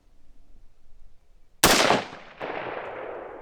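Rifle fire from an Aero Precision 20-inch upper shooting 75-grain rounds: a loud, close first crack with a long echoing tail, then a second, softer report a moment later.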